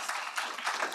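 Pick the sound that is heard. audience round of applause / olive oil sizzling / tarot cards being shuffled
audience round of applause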